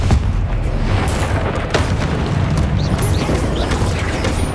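Confringo explosive spell in Hogwarts Legacy, a loud booming game blast with rumbling low-end and crackling debris over continuous battle noise.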